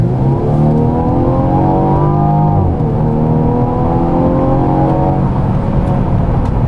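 A Mercedes-Benz E300 coupe engine in Sport Plus mode revs loudly up and down in smooth rising and falling sweeps, close and continuous with a deep throaty tone.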